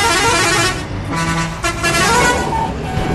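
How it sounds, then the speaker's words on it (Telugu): Bus horn honking in the mobile game Bus Simulator Indonesia, a loud sustained tooting blast over the bus engine rumble, up close. "అలా హార్న్ కూడా చూడండి, చూసారు హార్న్"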